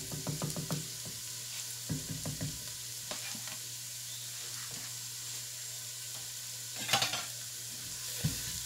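Diced garlic, six cloves, sizzles in a pot and is stirred with a utensil, giving scraping clatters at irregular intervals over a steady frying hiss, close and moderately loud, with no talking.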